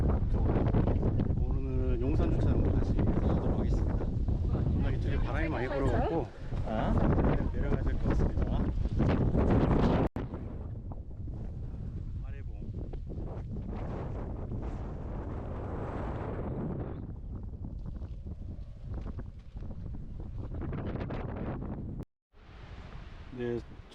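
Strong wind gusts batter the microphone on a mountain ridge of Jirisan during a spring azalea hike between Jeongnyeongchi and Baraebong. A loud, continuous buffeting roar carries through the whole stretch and dips briefly near the end.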